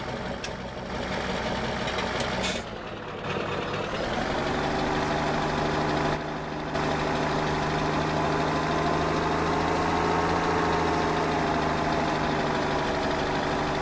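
Steady, loud idle of a John Deere tractor engine in Farming Simulator 17, a continuous low drone with a faint knocking texture and a slight pitch shift partway through, heard alone without talk.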